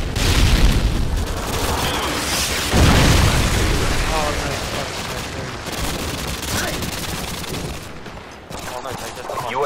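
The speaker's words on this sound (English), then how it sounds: "Friendly predator missile inbound." Booming explosions and rapid gunfire from a predator missile strike in Call of Duty: Modern Warfare 2, a dense, continuous wall of blasts and shots with a heavy impact near three seconds and no pauses.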